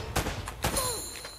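Gunfire from the video game Uncharted: Drake's Fortune: two or three loud, sharp shots spaced apart, each with a booming tail, over a steady game background.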